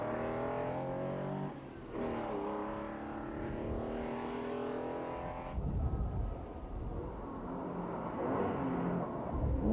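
A rally car at the 1997 Manx International Historic Rally accelerates hard away, its engine note climbing loud and close, then dropping briefly at gear changes before revving up again.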